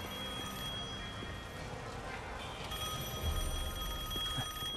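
Old telephone ringing with a steady bright bell tone inside Devil May Cry 5, continuous and fairly loud over a dense, noisy game background, with no one speaking.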